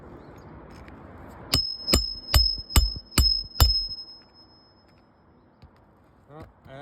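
Six sharp metallic hammer strikes drive roofing nails into shingles in an even rhythm, close and loud, each with a bright clanging ring, followed by quiet.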